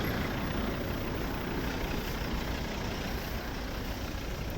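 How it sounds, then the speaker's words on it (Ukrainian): A steady 2.0-litre diesel engine of a 2012 Volvo V40 D3 idles nearby, a constant low rumble without pauses, no talking over it. "двигун."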